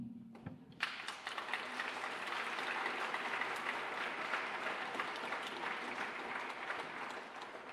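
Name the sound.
applause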